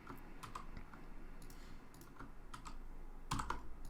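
Computer keyboard typing while code is deleted and pasted: a run of quick, close keystrokes in irregular bursts, ending with a sharper cluster of key presses.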